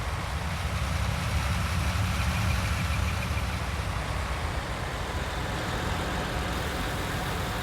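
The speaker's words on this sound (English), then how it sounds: "I left the engine running on the T8" Fendt T8 tractor engine left idling in Farming Simulator 19, a steady low rumbling drone holding even throughout with no speech.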